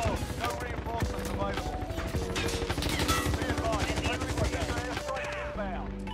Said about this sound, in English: They're just shooting random things now, dude.